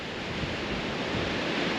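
Strong wind on a mountain summit in the Smoky Mountains, north of Newfound Gap, a steady, loud broadband roar buffeting the microphone without letup and with no voices.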